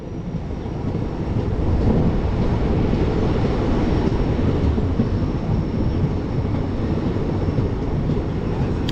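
A Haldibari–Bamunhat passenger train runs steadily, with a loud, continuous broadband roar and rumble heard close up from on board, without a break for the whole stretch.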